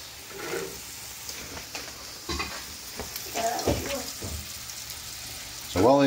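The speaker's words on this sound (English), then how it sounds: "I am going to put those in the deep fat fryer." Breaded eggs fry in a deep fat fryer with a steady low sizzle and bubbling, mixed with clattering kitchen noises and a few voiced murmurs, and the sound swells louder near the end.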